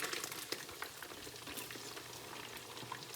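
Walleye cakes frying in a pan, a steady crackling sizzle that stays soft and even throughout with no one talking.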